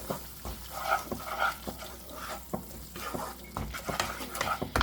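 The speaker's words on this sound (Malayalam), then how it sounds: "ഇതിപ്പോൾ മസാല റെഡി ആയിട്ട് ഒന്ന് എണ്ണ തെളിഞ്ഞ് വന്നിട്ടുണ്ട് മിക്സ് ചെയ്ത് കൊടുക്കാം" Onion-tomato masala for soya chunks masala being stirred in oil in a pan, with a steady scraping sizzle and repeated sharp spoon-on-pan knocks, close and clear.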